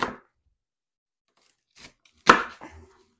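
A knife cuts through a plain onion on a board, with a faint stroke, then one sharp near chop followed by a softer trailing cut; no talking.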